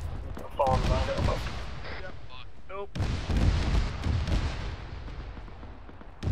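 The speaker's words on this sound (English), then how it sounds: "they're firing out about 50 meters in front of us over by those cargo containers" Gunfire in a military simulation game, sharp shots cracking out about 50 meters ahead near cargo containers, repeated bursts over a steady rumble with radio-style voices talking throughout.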